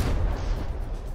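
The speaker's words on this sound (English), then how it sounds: "We got some of those secondary guns firing." Secondary guns firing in the naval combat game From the Depths, a short burst of dull, booming gunfire rumbling low and heavy, without clear separate shots.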